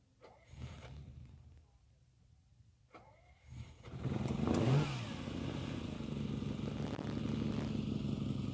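A V12 car engine starts after a few quiet seconds with faint voices, then runs loud and steady, rumbling and revving close by at an outdoor gathering in Huntington Beach.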